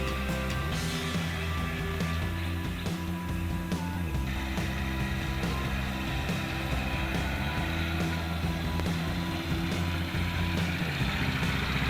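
A Tao Tao 125cc ATV (T135DX) engine idles steadily after carburetor adjustment, a continuous low rumble with a constant, unbroken level throughout and no talking.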